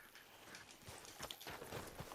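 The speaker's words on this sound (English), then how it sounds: "Dov'è il mio cavallo? Eccolo." Horse hooves clip-clopping at a walk in Red Dead Redemption 2, a quiet, regular series of soft thuds over a faint ambient background.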